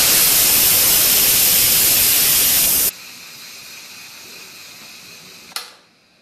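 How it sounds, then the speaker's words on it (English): An Instant Pot IP-DUO60 7-in-1 pressure cooker vents steam on quick release, a loud, close, broadband hiss that roars steadily for about three seconds, then cuts to a softer hiss, with a brief sharp burst near the end before fading. "the quick release, and that means you just turn the steam release handle to the venting position."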